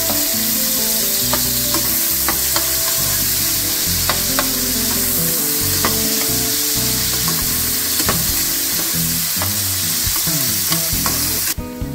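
Chopped tomato and green chili fry in a hot pan for spicy pasta, giving a loud, steady sizzle throughout, with scattered clicks of stirring running through it.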